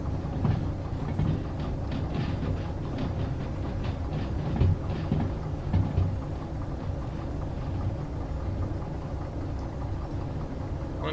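An eight-car freight train coasts along the rails in the Derail Valley railway game, giving a steady, loud rumble of wheels and rolling stock with faint rhythmic clatter throughout and no talk.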